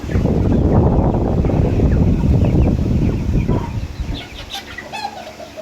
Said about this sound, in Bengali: এটা হচ্ছে দেশি মুরগি এখানে চার পাঁচটা দেশি মুরগি আছে